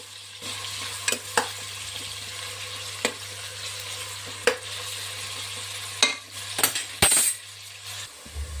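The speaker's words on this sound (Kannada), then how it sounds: "ಇದು ಗೋಲ್ಡನ್ ಬ್ರೌನ್ ಆಗೋ ತನಕ ಫ್ರೈ ಮಾಡಬೇಕು ಚೆನ್ನಾಗಿ." Onions fry in a pan for mushroom biryani, a steady close sizzle with occasional clinks and scrapes of a spoon stirring against the metal.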